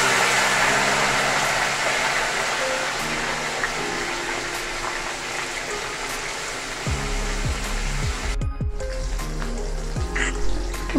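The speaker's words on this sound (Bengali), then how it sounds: "তো ফ্রেন্ডস মাছগুলো ভেজে নেওয়া যাক. চলুন ভেজে নিই এক এক করে" Fish pieces fry in hot oil in a pan, a steady close sizzle with an engine-like hum underneath; the hiss thins out near the end, leaving a few low thumps.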